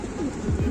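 A homing pigeon hen in a newly paired breeding loft gives a short, close, low throaty coo, a couple of quick swooping notes, with faint background noise.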